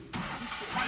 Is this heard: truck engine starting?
yes